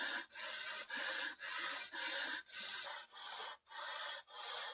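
Hand sawing of firebricks held in a homemade mitre box, cut to a 79-degree corner angle for a raku kiln wall: a steady series of about nine rasping back-and-forth strokes, close and evenly paced, with no talking.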